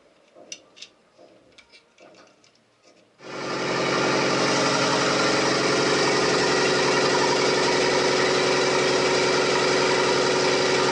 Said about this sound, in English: The engine's running and The rev counter's working.